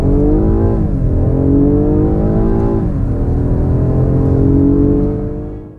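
A 2019 BMW X6 40i pulls hard through a 30 to 70 sprint, the engine droning loud and close with rising pitch, a brief dip at each gear change, then easing off at the end.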